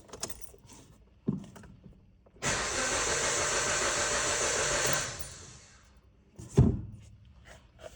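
A Hyundai i30 with a 1.4 engine cranks without catching: a steady, loud starter whir of about two and a half seconds, framed by faint clicks and a sharp thunk afterward, with no voices.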